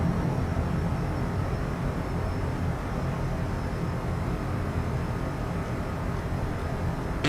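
Twin jet engines of a Cessna Citation CJ4 set to climb power in Microsoft Flight Simulator 2020, a steady unbroken roar holding level throughout.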